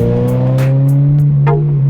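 A car engine drones loudly up close with a strong humming tone, rising slightly in pitch as it revs, with a few brief clicks and squeaks over it.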